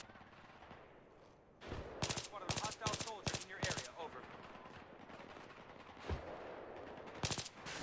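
Automatic rifle fire in the shooter game Battlefield, a team deathmatch on the Caspian Border map, comes in several sharp, rapid bursts after a quiet start, with a brief lone shot and a final burst. Faint background voices are mixed in.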